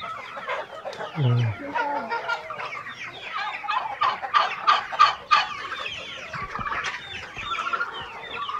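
Hens clucking in a busy farmyard, a steady chorus of short calls with a few louder bursts near the middle, amid general background chatter.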